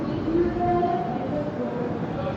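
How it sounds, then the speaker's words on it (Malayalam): The Mangala Express (Ernakulam–Hazrat Nizamuddin) pulling into a station makes a steady low rumble with faint squealing tones, while people talk nearby. "ഇതാണ് നമ്മുടെ ട്രെയിൻ വരുന്നത്."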